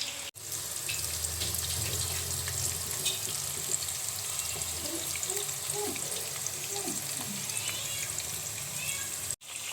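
Quail frying in oil, Kerala style, giving a steady, even sizzle and crackle that runs evenly through the whole stretch with no voices on top.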